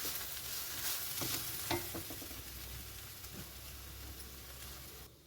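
Sliced okra fries in a pan, giving a steady close sizzle throughout with a few light scrapes and stirring taps, and no voices.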